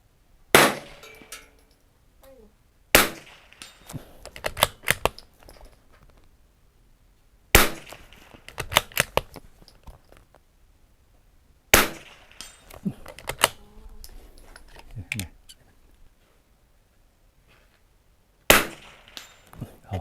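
Rifle shots fired at a target 100 meters away on a range, five sharp loud cracks spaced several seconds apart, each followed by clattering mechanical handling sounds and faint rattles between shots.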